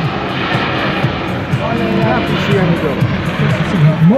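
A C-27J Spartan military transport aircraft flies at an air show in Radom, its propeller engines droning steadily beneath continuous spoken commentary.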